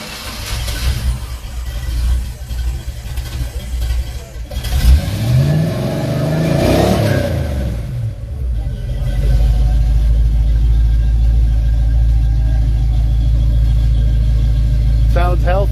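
An antique car at a club car show fires up and revs, its engine climbing through a couple of swelling, wavering revs before settling into a loud, steady rumbling idle close by, with people talking early on.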